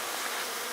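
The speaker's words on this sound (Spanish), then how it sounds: "las abejas andan muy cerca" Bees swarm close around a huge, honey-laden comb in a pine tree, their buzzing a steady, dense drone throughout with no pauses.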